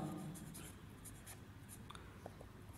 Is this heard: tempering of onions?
no